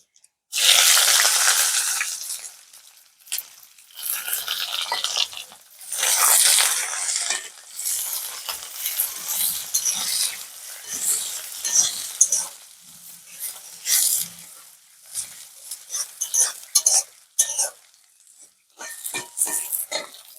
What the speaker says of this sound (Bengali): পাঁচ ফোড়ন আর গোটা মশলা দিয়ে দেবো পেঁয়াজ কুচি